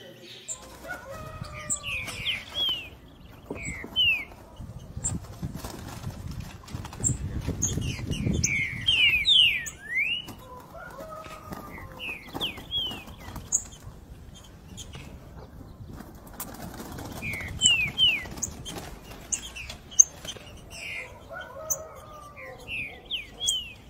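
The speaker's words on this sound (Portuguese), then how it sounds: "Os filhotes de trinca aí, ó." Green-winged saltator chicks, trinca-ferro of mixed sizes nearly feeding themselves, give repeated thin high chirps and short calls in bursts over a low background murmur, close and fairly clear.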